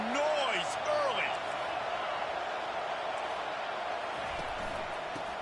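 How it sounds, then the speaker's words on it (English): Crowd noise roars steadily at a Nebraska versus Indiana football game in the stadium, a broad wash under a commentator's voice, with a few whistle-like tones early on. "This crowd bringing the energy and noise early."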